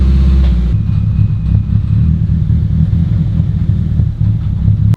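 A Nissan S15 engine idles and runs in first gear with a raised wheel spinning, giving a loud, close, steady low rumble with a slight drop in pitch early on.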